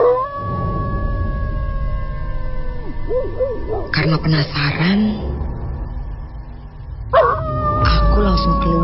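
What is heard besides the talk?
dog howling outside, radio drama sound effect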